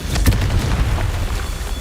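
A Confringo blasting spell explodes in a video game, with loud, deep booming bursts that rumble and roll on for about two seconds, with no talk.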